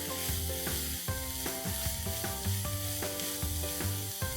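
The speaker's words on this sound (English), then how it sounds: "Let's add the onions and saute it pink and soft." Onions sautéing in hot ghee and oil in a kadai, a dense continuous sizzle with rhythmic stirring scrapes and knocks of the spoon against the pan, close and clear.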